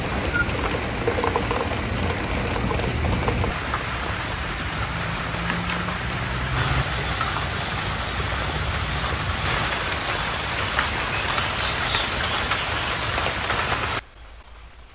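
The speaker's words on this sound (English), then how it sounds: "So as you can see, it's a rainy day" Steady rain falls throughout, a dense continuous patter on surfaces with no other sounds on top, ending abruptly near the end.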